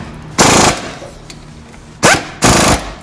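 An impact wrench drives the 14 mm rear brake caliper bolts on a 2006 Toyota Solara, firing three loud, close rattling bursts: a longer one first, then two shorter ones in quick succession.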